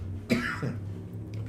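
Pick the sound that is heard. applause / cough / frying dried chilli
cough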